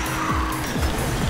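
A car drifting in Trackmania Turbo, its engine droning loudly with sliding tire squeal over a brief, steady stretch.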